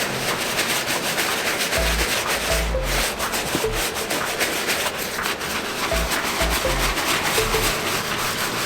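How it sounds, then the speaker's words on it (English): A soft bristle brush scrubs over an Off-White Jordan 1 sneaker in repeated back-and-forth strokes, a close, steady rubbing rasp with rhythmic pulses. "I'm going to go around every part of the shoe with the soft bristle brush to give it an overall even clean."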